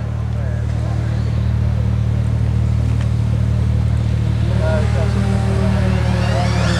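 Modified Audi 80 race car at the Brighton Speed Trials, its engine droning steadily at a distance before rising in pitch as it accelerates near the end, with a commentator talking over it.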